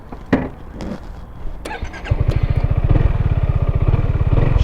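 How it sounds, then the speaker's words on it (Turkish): Yamaha X-Max 250 scooter engine starting up and then idling close by, with a steady rapid putter and a few louder revs at the start; no one speaks over it. "Bir de sesine bakalım motoru şimdi."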